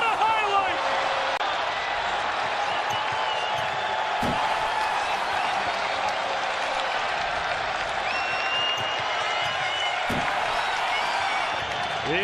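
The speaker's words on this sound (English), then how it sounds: "This crowd thunderous after that alley-oop" An arena crowd roars at a Knicks vs Bucks NBA game after an alley-oop, a loud, sustained wash of cheering and applause with a commentator talking over it.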